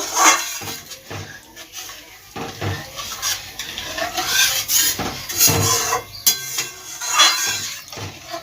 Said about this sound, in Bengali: এবার যে নারকেল দুধটা বার করে রেখে দিয়েছিলাম সেইটা দিয়ে দেব ভালোভাবে মশলাটা মিশিয়ে নেব